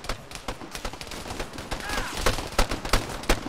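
Heavy gunfire in Arma 3 pops in a rapid, uneven string of sharp shots, some near and some farther off, steady across the whole stretch.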